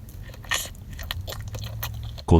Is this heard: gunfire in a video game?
no